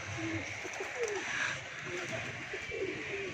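A red pigeon perched on a rooftop gives soft, low, repeated coos, faint against quiet outdoor background noise.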